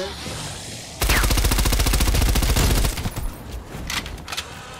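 Rapid pistol gunfire in Call of Duty Black Ops Cold War Zombies: a loud, fast string of close shots, dense and steady for about two seconds, then scattered softer game effects trailing off.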